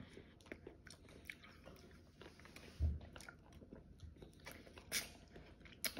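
Biting and chewing a Peters Twin Pole ice block, with close, quiet icy crunches and a couple of sharper bites between softer chewing, no talking.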